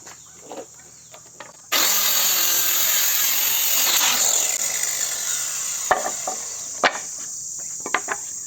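A wooden plank being cut for a kurandi stool: a loud, continuous rasping saw runs for about four seconds, then gives way to scattered knocks and taps, with no voices.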